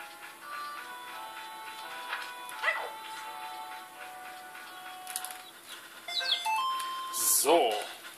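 Dogs bark and yip at the dog race in the video game Zelda: Majora's Mask, a short series of game barks over chiming music with a voice talking.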